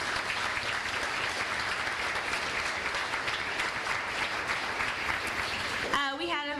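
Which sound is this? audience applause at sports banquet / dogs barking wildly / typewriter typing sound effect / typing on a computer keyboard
audience applause at sports banquet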